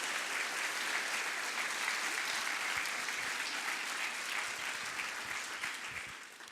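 A conference audience breaks into sustained applause, a dense, loud wash of clapping that holds steady for several seconds before starting to thin and fade toward the end.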